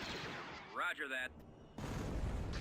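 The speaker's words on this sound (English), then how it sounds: "we do have the orbital bombardment" Orbital bombardment in the space strategy game Empire of the Hand, a mod for Thrawn's Revenge, lands as booming artillery-like blasts and rumbling impacts, with radio-style unit chatter and sweeping tones mixed in.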